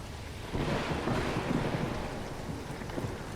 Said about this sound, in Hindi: फिर अचानक तेज बारिश शुरू हो गई।